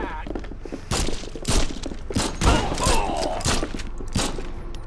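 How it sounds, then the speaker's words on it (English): A Tommy gun rattles off repeated bursts of automatic fire in the horror video game The Sinking City, loud thudding volleys spaced through the clip with some game ambience between them. "Tommy gun!"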